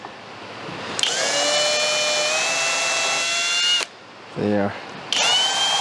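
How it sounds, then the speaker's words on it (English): A small drill bit marks a hole in walnut for a rustic lamp build, the motor whining steadily for nearly three seconds, pausing briefly, then starting up again, close and clear, with a brief spoken word in between. "I'm just going to use a small drill bit"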